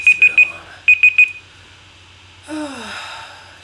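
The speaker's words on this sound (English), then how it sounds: "That's just a bit of alarm." An alarm clock beeps nearby in two quick bursts of three sharp electronic tones, followed by a drawn-out sigh from a person.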